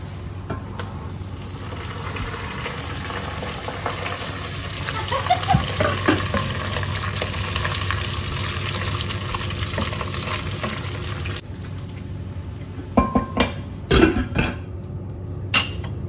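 Bacon frying in a covered pan on high heat, a steady close sizzle and crackle running throughout, with a few sharp clinks near the end.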